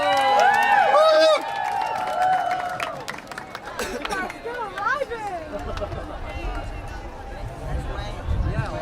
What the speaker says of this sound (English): Everyone, big applause to yourselves.